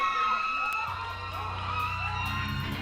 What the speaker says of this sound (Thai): เสียงกรี๊ดกรี๊ดนั่นนี่แหละครับ